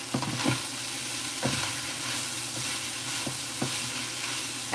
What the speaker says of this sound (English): Add in the carrots and start mixing around the carrots for about a minute.